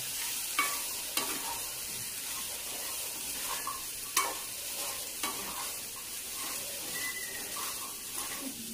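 Chickpeas are sautéed and stirred in a pan, giving a continuous close sizzle broken by sharp scraping taps of the spoon every second or so.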